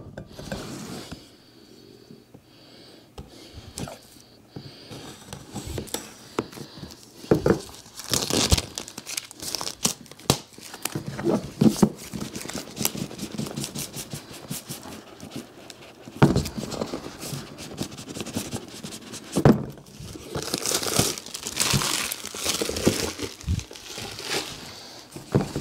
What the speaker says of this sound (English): let's unbox this thing right quick